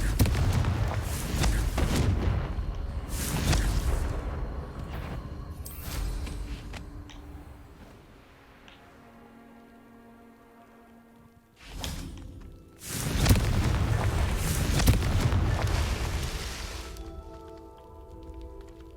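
Repeated spell-blast explosions in the Hogwarts Legacy video game, the Confringo fire spell: loud booming, whooshing bursts at the start, a quieter stretch with a held musical tone, then another heavy roaring burst near the end.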